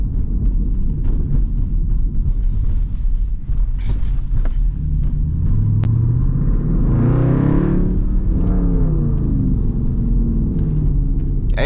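A straight-piped Hemi SRT Jeep exhaust roars with a deep, loud rumble, swelling through a rev and settling back, heavy low growl with some wind buffeting over the microphone.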